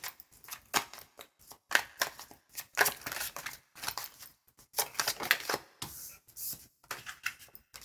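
Tarot cards are shuffled and handled close up, making quick crisp riffles, slaps and soft flicks in uneven bursts.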